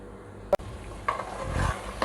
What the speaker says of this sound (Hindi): अभी चिकन को अच्छी तरह भूनें।